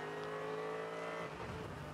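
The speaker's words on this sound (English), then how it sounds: "immediately the engine note drops from the 28 car as he's heading down to Hocheichen" A race car, the number 28, runs at the Nürburgring Nordschleife in a 2017 VLN endurance championship race, its steady high engine note holding, then dropping in pitch as it enters a slow section, fairly faint and distant.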